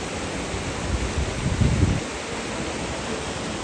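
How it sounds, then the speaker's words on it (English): A rain-swollen creek rushes fast against rock after a huge rainstorm, giving a steady, dense roar of flowing water that swells briefly in the middle and otherwise holds even, with no voices. "the water's just flowing really fast, cutting up against the rock"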